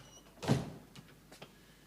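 An indoor door swings shut with a single muffled thud near the start, followed by faint shuffling and small knocks in a quiet room.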